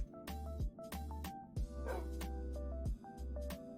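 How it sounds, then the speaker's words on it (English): A dog barks repeatedly in a rapid, irregular series of close, sharp yips and woofs, mixed with tonal game-like sounds. "I swear I heard a dog bark"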